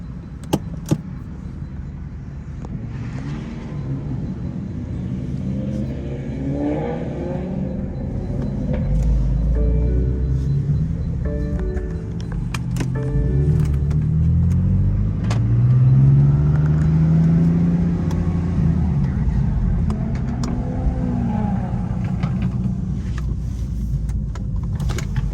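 A car pulls away from an exotic car meet, its engine rumbling low and steady as it drives off, the tone rising and swelling midway through before settling into a continuous drone.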